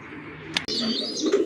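Racing pigeons from a club loft give short, close coos and chirps, with one brief sharper call partway through.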